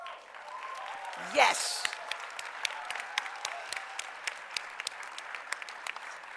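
An audience at a graduation award ceremony gives sparse, scattered applause that sounds distant and thin, with a few sharper individual claps, following a short spoken word.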